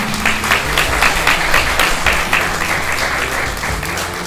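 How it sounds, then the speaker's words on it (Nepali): Guests at a Christian wedding applaud loudly, a dense sustained burst of clapping from a crowd that holds steady and fades only slightly at the end. "हामी एकदमै जोरदार ताली बजाएर हामी उहाँलाई धन्यवाद दिनेछौँ"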